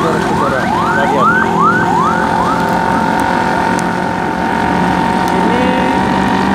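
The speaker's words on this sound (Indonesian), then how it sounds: "Wah, ada mobil ambulan ini saudara-saudara." An ambulance siren on a street in Depok, Indonesia at night, a loud rising wail repeating several times in quick succession before settling into a steady tone, over traffic noise.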